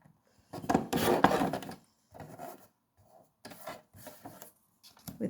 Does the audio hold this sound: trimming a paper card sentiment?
yes